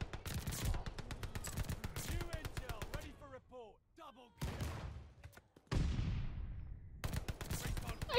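Rapid gunfire from Call of Duty: Vanguard, including shotgun blasts and automatic weapon bursts, in loud close bursts separated by brief quieter gaps, with a voice speaking at times.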